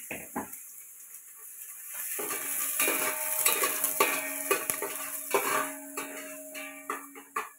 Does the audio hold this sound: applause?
no